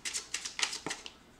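Sun and Moon Tarot cards being handled and shuffled, a quick run of crisp papery flicks and taps, close and fairly quiet, then a brief pause.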